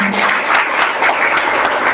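Audience applause at a women's haldi-kumkum health gathering in Boisar: dense, steady clapping from a crowd that fills the whole moment at close range, with no talk over it.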